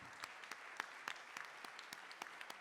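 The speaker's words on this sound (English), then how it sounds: "So let's have a round of applause for everyone who came this evening." People attending a candidates' town hall applaud quietly, a faint continuous patter with a few sharper nearby claps standing out, and no speech.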